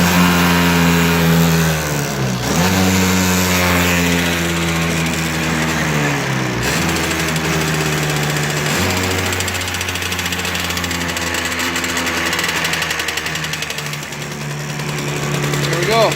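Cold-weather start of a 2006 Tomos Streetmate 50cc moped engine at about minus fifteen degrees, a loud, close buzzing two-stroke idle with dips and rises in pitch as it settles and catches.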